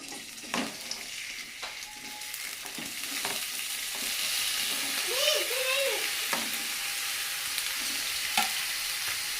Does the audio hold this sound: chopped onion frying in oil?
yes